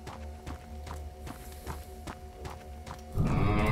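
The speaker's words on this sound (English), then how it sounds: "That was a cow. I think it was a wild cow." In Amnesia: Red Waters, a wild cow's heavy footsteps thud in an irregular plodding rhythm under a low ambient drone. A sudden loud rumbling burst comes near the end.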